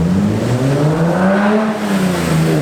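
Black BMW E30 with a manual gearbox accelerating hard past a house, a loud, close engine note rising and then falling in pitch over a few seconds as it pulls by.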